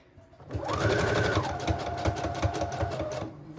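A sewing machine running a zigzag stitch on a patchwork junk journal, fabric and paper pieces: a steady loud mechanical whir with rapid rhythmic needle clatter lasting about three seconds, starting abruptly and stopping near the end.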